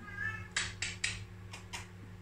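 An indoor house cat gives a faint, plaintive meow, followed by several sharp, broadband knocks or thuds nearby over a low steady room hum.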